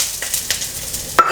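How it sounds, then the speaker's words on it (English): Bean sprouts hit a hot pan with already sautéed shallots, giving a soft steady sizzle broken by a few brief stirring scrapes and a utensil clink near the end. "The shallot is sauteed already, so I'm gonna put in bean sprouts."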